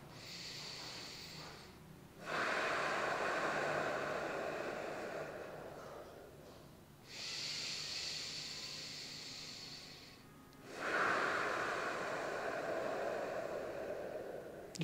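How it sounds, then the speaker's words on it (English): Slow ujjayi ocean breathing through a constricted throat during a weighted belly-breathing exercise, with three long, soft hissing breath cycles that rise and fall close to the ear, with no talk over them. "Maybe engaging ujjayi, so constricting the throat, making that ocean breath"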